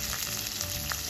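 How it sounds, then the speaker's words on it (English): Curry leaves and chilies crackle in hot oil and ghee with a dense, steady sizzle, close and even, alone and without talking. "Add urad dal, stir, add curry leaves and chilies,"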